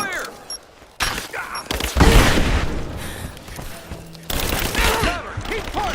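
Gunfire from a Rise of the Tomb Raider combat scene, with bursts of rapid shots and booming impacts in several loud clusters separated by brief lulls, plus shouted voices from the game.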